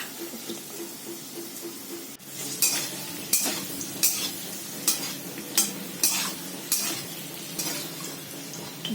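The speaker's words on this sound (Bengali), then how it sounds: "এখানে আলুটাও ভাজা হয়ে যাচ্ছে" Potatoes frying in oil with a steady sizzle, punctuated by regular scraping strokes of a spatula about every second, close and fairly loud.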